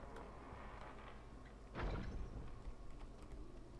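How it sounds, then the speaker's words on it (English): Heavy main doors swing open after a lever pull in Indiana Jones and the Infernal Machine, a single grinding rumble rising suddenly near the middle and fading into steady ambient background. "If we just open this lever here, that deals with the main doors for us"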